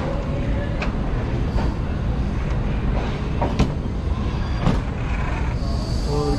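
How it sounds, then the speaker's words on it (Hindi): Green Line Express passenger train pulling out of Lahore Junction, heard from inside an economy coach: a steady loud rumble with intermittent rail clacks and thumps. "तो फाइनली ट्रेन डिपार्ट कर रही है लाहौर जंक्शन से"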